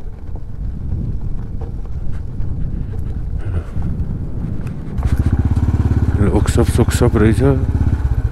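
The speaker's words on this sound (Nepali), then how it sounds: "बाइक पनि कता कताबाट ट्याङ्ग्राङ ट्याङ्ग्राङ गर्छ" A motorbike engine rattles and chugs under wind noise and talking, swelling into a louder, steady rumble as it passes close in the second half.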